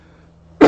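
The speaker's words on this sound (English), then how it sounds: "And I'm coughing." A single short, loud cough bursts out near the end after a stretch of near silence, from a man feeling under the weather.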